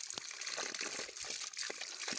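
Drinking water trickles steadily from a hollowed bamboo pipe, a faint, continuous splashing stream with small irregular gurgles and no voices.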